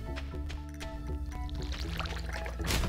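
A watering can pours water in the farming video game Stardew Valley, a continuous splashing pour layered over steady game music, swelling louder at the end.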